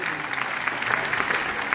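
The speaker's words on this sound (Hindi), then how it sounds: "एक बार जोरदार ताली होनी" An audience at a live training session in India breaks into steady, dense applause, many hands clapping at once at an even level throughout the short burst.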